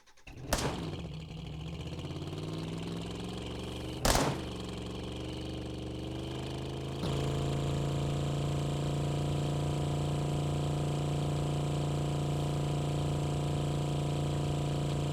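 A muscle car engine in Drive Beyond Horizons cranks and catches, idles with a steady hum, gives a sharp blip, then settles into a louder, steady droning run with a strong low tone.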